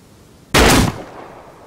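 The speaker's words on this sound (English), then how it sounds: "Okay, go ahead and shoot him." A single loud gunshot in the Rust video game, one sharp close burst followed by a short fading tail.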